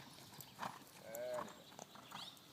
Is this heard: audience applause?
no